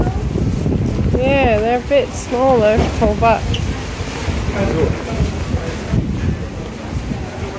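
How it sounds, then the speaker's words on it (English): Gusty wind buffets the microphone in a steady low rumble while people talk over it. "it's a bit windy"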